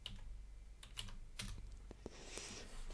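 Computer keyboard typing, a quick run of close, crisp key clicks in irregular bursts with no talking.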